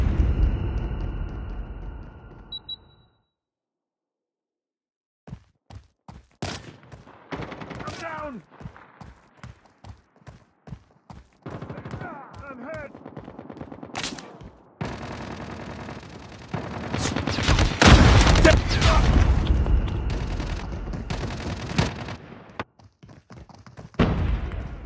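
Call of Duty gameplay with sharp, repeated gunshots in quick irregular bursts after a brief quiet spell, building into heavier mixed firing and thuds later on, with some voices and game callouts.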